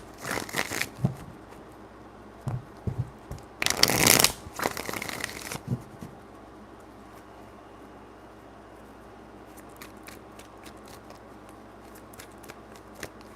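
Tarot cards being shuffled by hand, in a few short crisp riffling bursts with one louder flurry in the middle, then faint scattered taps and rustles in a quiet room.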